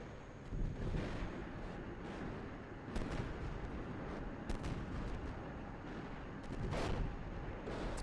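Artillery fire in the tank simulator Steel Beasts Pro: a continuous rumbling barrage of distant booms and blasts, with heavier impacts around one, three and seven seconds over a wind-like roar, no talk.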